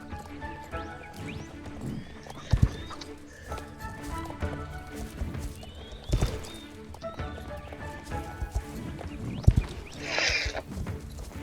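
Horse hooves clip-clopping in the video game Star Stable, a steady walking rhythm of soft hoof beats with occasional louder thuds and a brief neigh near the end, faint overall against light background game sounds.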